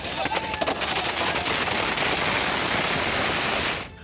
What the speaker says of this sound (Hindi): जहां पुलिस की मौजूदगी में बीच सड़क पर टीएमसी कार्यकर्ताओं ने जमकर आतिशबाजी की।